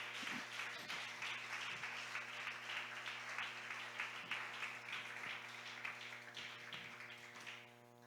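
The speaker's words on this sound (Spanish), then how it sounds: "Fuerte ese aplauso" Sustained applause from a church congregation during a sermon, a steady wash of clapping that continues for several seconds over a humming background before tapering off at the end.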